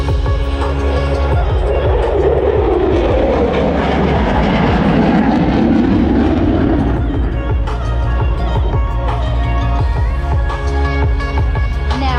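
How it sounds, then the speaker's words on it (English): A USAF F-16 Fighting Falcon jet flies a knife-edge pass at an air show, a loud, continuous roaring rush that swells and shifts pitch as it sweeps past, then keeps rumbling heavily. "In from the right, the F-16 and the knife edge pass."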